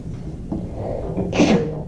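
A single sharp sneeze near the end, rising out of quiet room noise at a wood carvers club meeting.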